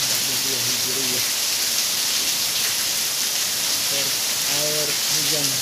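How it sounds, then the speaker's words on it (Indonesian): Steady hiss of heavy rain falling with cold wind, broad and constant, with a voice faintly heard underneath at moments. "Titisan hujan berkat Ramadan"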